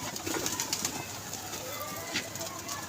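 A flock of pigeons at a pigeon club being fed grain, with steady close cooing and soft rustling and wing movement running through the whole stretch, no voices.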